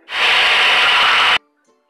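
A blender runs on mole ingredients such as onion and garlic with a little water, a loud steady whirring burst lasting over a second, then cutting off sharply to near silence.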